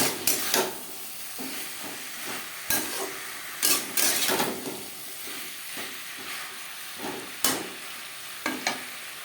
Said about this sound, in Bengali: মশলার সাথে লাউডাটা বেশ ভালো করে মিক্স করে দেবো